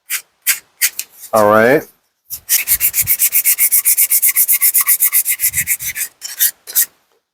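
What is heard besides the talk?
hand sanding edges of a wooden toy Ford Model A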